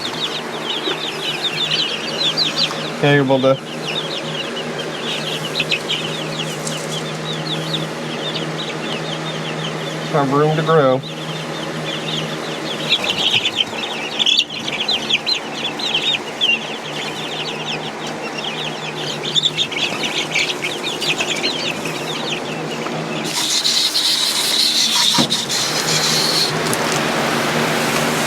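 Young chicks in a pen give soft clucks and peeps, with occasional sharper chirps and brief flutters, while a person talks nearby over steady background noise.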